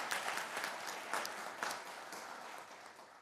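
Applause at a police officers' swearing-in ceremony, a room of people clapping steadily for about three seconds with a few louder bursts, at moderate distance.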